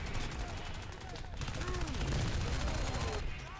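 Rapid automatic gunfire from a weapon in the video game Crysis 2, dense and continuous bursts of shots under other game sounds, with people talking over it.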